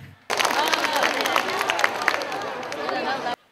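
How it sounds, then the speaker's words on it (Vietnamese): A large crowd at a high school reunion anniversary celebration breaks into dense, sustained applause mixed with cheering and hubbub, starting abruptly and holding steady for about three seconds before cutting off. "Một lần nữa xin một tràng pháo tay để bắt đầu chương trình ạ."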